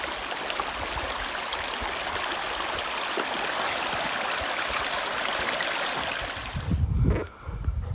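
A creek runs down through a desert canyon framed by saguaro cacti at Burro Creek, Arizona, giving a steady, full rush of flowing water that holds at an even level before a sudden low rumble and thump near the end.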